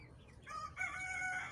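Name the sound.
chickens and rooster crowing on a village farm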